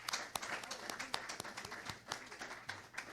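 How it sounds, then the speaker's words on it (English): An audience claps in a loose, uneven patter of separate sharp claps that rise and fall over a few seconds, with a murmur of voices underneath. "give them a round of applause, please"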